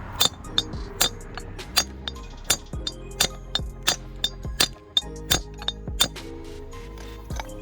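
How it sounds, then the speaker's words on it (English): A small hammer taps a wheel stud into the hub of a 1992–2000 Honda Civic EG/EK, making about fifteen sharp metallic clinks at an uneven pace, each with a brief ringing tail, close up and with no talking. "the big hammer just wouldn't push that thing in, the stud in, so I'm going to try with the little one"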